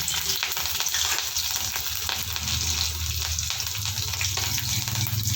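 Slit green chillies fry in a hot oil tempering of nigella seeds, giving a loud, continuous crackling sizzle with faint scraping stirs and no speech.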